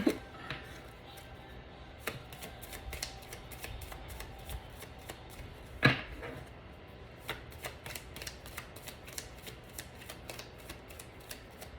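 A tarot card deck is shuffled close up in quick riffling bursts, with sharp repeated flicks of cards and a few louder slaps against a quiet room, no talking.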